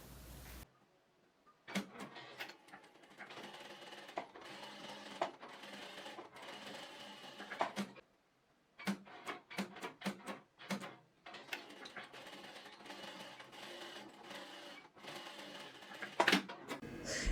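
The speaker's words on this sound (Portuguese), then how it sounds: "agora nós vamos na máquina reta fazer a bainha do nosso bolso" A straight-stitch sewing machine hems the opening of a shorts pocket, with fast mechanical chattering runs in several bursts separated by short pauses, close and fairly quiet, with no speech.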